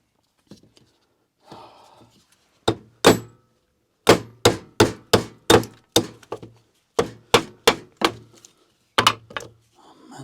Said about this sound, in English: I've been chipping it off with an axe